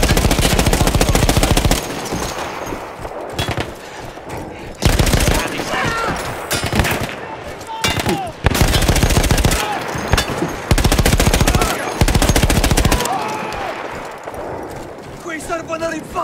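A mounted machine gun in Battlefield 1, taken over from Austro-Hungarian troops, hammers out loud, dense bursts that alternate with quieter gaps of battlefield noise, and voices speak throughout.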